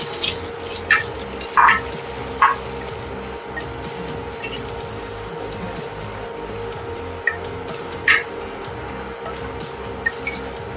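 Vermicelli roasting in a spoonful of ghee for semiya payasam is stirred in a pan, giving soft scraping strokes and a few sharper spoon clinks at irregular intervals over a steady low background hum.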